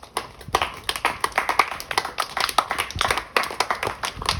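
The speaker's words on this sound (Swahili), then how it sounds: "jipigie makofi mengi tafadhali" A live audience at a motivational economics talk in Tegeta bursts into dense, lively clapping, many hands at once, loud and close with irregular surges and no speech over it.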